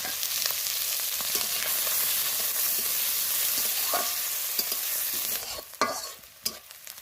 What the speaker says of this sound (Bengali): এটা দিয়ে দেবো একটু লাল করে ভেজে নেবো